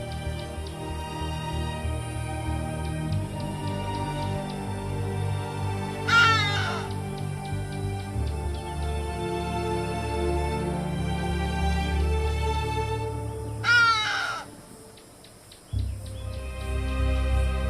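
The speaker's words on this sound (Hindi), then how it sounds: "हडीडा दक्षिणी अफ्रीका में पाई जाने वाली एक आम चिड़िया है" Hadeda ibis in southern Africa giving two loud, harsh raucous calls a few seconds apart, standing out over steady ambient background with no talk.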